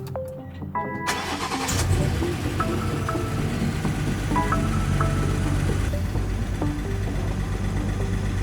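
A car engine cranks briefly, catches and starts, then settles into a steady, slightly rough, shaking idle, close by with no voices.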